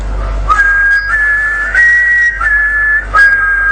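Close whistling carries two simultaneous pitched lines, a tune with a harmony line, moving through a few sustained notes without any speech.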